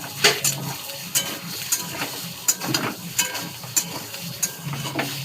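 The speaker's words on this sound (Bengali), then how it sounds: "দিয়ে আমি সয়াবিনটা ভালো করে ভেজে নেব" Soybean chunks fry with turmeric and salt in a pan, a close sizzle under regular sharp spatula strikes and scrapes against the metal, roughly one or two per second, with no voices.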